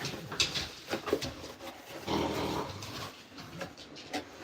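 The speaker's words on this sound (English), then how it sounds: "Did you hear my dog?" A dog pants and whimpers in short uneven bursts close by indoors, with soft breathy huffs and a low growl-like rumble between quieter gaps.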